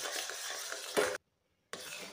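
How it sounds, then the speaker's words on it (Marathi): Khoa with cardamom powder is stirred in a pan over a gas flame, a soft scraping and faint sizzle that runs briefly, stops in a short silence, then resumes. "आपल्याला हे घट्ट होईपर्यंत गॅसवरती असंच ठेवायचं आणि मध्ये मध्ये हलवत राहायचं"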